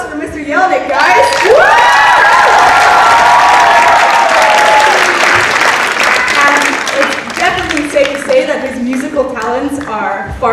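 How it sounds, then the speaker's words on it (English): Audience applause and cheering fill a teacher talent show hall, loud and sustained, with whoops and shouts from the crowd while a voice speaks over the noise. "Another round of applause for Mr. Yelnick, guys."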